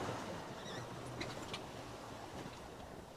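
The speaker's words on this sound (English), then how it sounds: "The waves are still here." Sea waves and wind during a rough sailing crossing, heard as a quiet, steady broadband rush with faint creaks and clanks from the boat.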